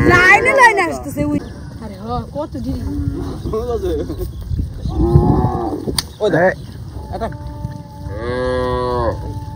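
Cattle low again and again near a river on a char in the Padma–Jamuna, with several long, loud moos from close by and people talking over the herd.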